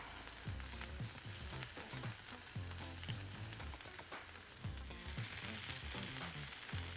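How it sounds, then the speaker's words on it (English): Bell peppers and sweet onions fry on a Blackstone griddle, a steady broad sizzle with crackling pops running the full length at moderate level, no talk over it. "Put our bell peppers down, and our sweet onions. Let those start going a little while."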